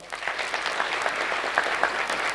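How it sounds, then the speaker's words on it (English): Sustained audience clapping at a National Defence University graduation ceremony, a steady dense round of applause filling the whole short stretch. "One more round of applause"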